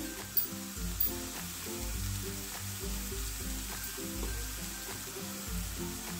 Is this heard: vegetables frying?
yes